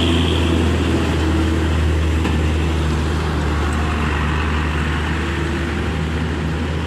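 A large truck engine labours uphill through a bend, a loud, steady low drone and rumble that holds heavy and even throughout with no break.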